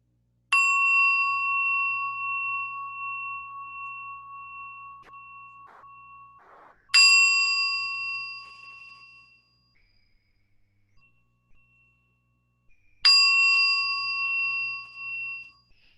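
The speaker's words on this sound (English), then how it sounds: "Just going to ring the bell to start us in a meditation today." A meditation bell is struck three times, each a clear, resonant ding with long ringing overtones that slowly fade, separated by quiet pauses of several seconds, close and alone without talk.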